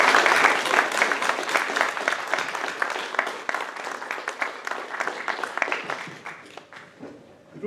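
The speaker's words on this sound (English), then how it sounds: "can we give them a really big round of applause?" Audience applause fills a school award ceremony in Dunfermline, dense steady clapping from a large crowd that thins and fades toward the end.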